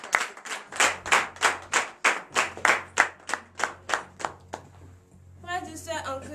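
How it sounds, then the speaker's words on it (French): A church congregation at a morning prayer service claps loudly in a steady, even rhythm for about four seconds, then stops as a voice begins to speak. "Midokwe Sandrine, que je vous demande d'applaudir très très fort."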